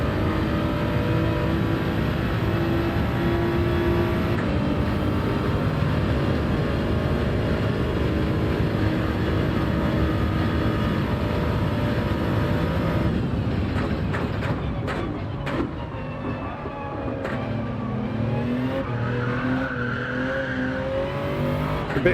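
A hypercar in Gran Turismo 7 with a straight-cut racing gearbox, its engine droning loudly and steadily, then easing off with gear whine and changing pitch as it slows and picks up again.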